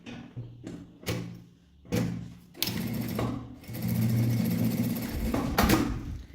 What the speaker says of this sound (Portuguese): vai passar uma costura com um pé de máquina